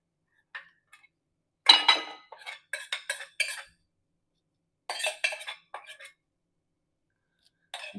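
A spoon stirs a sweet gram flour mixture for mohanthal in a metal kadai off the heat, giving scattered metallic scrapes and clinks in short irregular bursts with quiet gaps between.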